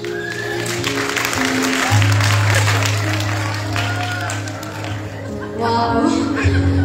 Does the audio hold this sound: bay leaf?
no